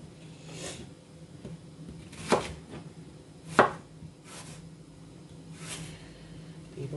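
A knife chopping onion into rings on a board, a handful of separate cuts spaced irregularly over several seconds, two of them sharper and louder, against a quiet kitchen background.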